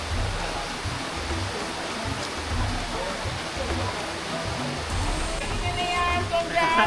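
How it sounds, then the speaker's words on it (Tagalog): River water rushes steadily during a crossing near Buscalan in Kalinga, a dense, continuous close roar of flowing current with occasional low thuds underneath. "ang tunog ng agos ay parang nagbibigay ng kalmado at payapang pakiramdam"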